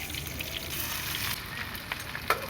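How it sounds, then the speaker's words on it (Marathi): Mustard seeds, cumin, crushed garlic and curry leaves frying in hot oil in a wok, a steady close sizzle with faint crackles and a couple of sharper pops, no voices. "कढईमध्ये तेल गरम झाल्यानंतर त्यामध्ये मोहरी टाकली मोहरी चांगले तडतडल्यानंतर त्यामध्ये जिरे घालून घेतलं"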